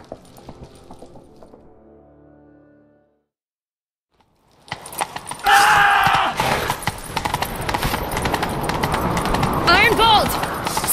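A horse gallops at speed in The Witcher 3, loud hoofbeats rushing under game music and voiced dialogue after a short stretch of near silence.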